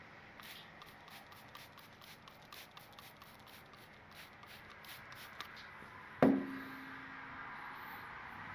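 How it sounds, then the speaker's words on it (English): WD-40 aerosol is misted onto the outside of a foam air filter from a John Deere X530 mower: one short, sharp hissing burst that trails off, after quiet rustling handling sounds. "just take some WD-40 and mist the outside of the filter"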